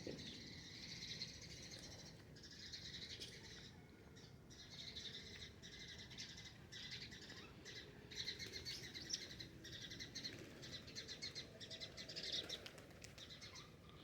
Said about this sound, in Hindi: परिंदों की चहचहाहट है।